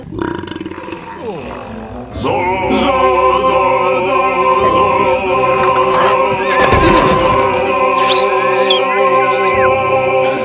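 A horse whinnies loudly and at length, a shaky, drawn-out neigh with grunting breaths, close by and mostly on its own.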